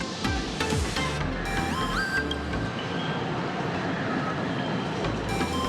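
A train departing in the video game Honkai: Star Rail, a rumbling rolling drone under rising mechanical whines and tonal sweeps, steady and moderately loud with no voices.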